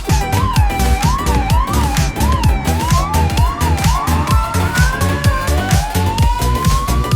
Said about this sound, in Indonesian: Wadidaw, mobil ambulan.